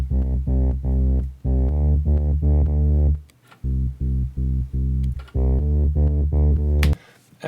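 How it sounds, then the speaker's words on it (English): A Roland JP-8000 bass line, distorted through the iZotope Trash plugin, pulses in short, gritty, heavy stabs in a syncopated dance rhythm, loud and alone with brief gaps between phrases. "edit it with Isotope Trash, which is one of my my favorite distortion plugins"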